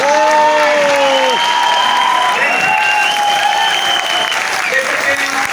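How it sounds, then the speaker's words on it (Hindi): A large crowd at a company event in Gorakhpur breaks into loud, sustained applause, with steady dense clapping and sustained tonal sounds running through it. "एक बार जोरदार तालियां खड़ो कीजिए"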